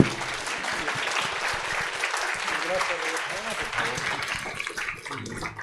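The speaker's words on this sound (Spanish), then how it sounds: "Un aplauso, por favor" An audience applauds after a lecture on conserving and reusing built heritage, a steady, fairly full round of clapping lasting throughout, with a voice briefly audible underneath.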